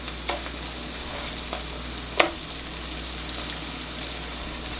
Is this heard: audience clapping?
no